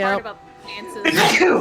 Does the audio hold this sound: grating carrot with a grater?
no